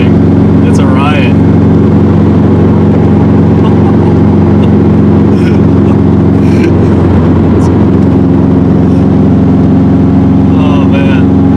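A 2005 Subaru WRX STi engine hums as the car is driven, a loud, steady low drone that fills the cabin throughout, with occasional voices faintly over it.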